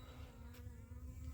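Honeybees hum faintly around a swarm trap outdoors, a soft continuous buzz with no talking.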